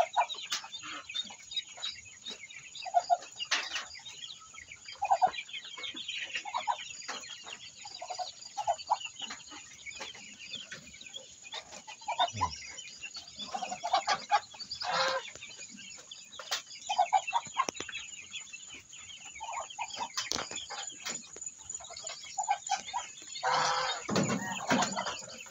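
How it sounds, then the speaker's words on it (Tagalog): Ducks quack and murmur in scattered, faint calls throughout a backyard farm, with no talk over them. "Mga itik."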